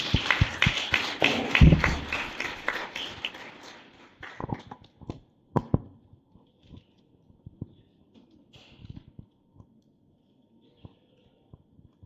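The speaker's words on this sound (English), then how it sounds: "another round of applause for our panel" Audience applause for a panel at a financial sector AI event, a short burst of clapping that fades within a few seconds into scattered light claps and taps over quiet room noise.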